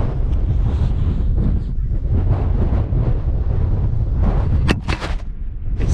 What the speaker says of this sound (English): It's so windy up here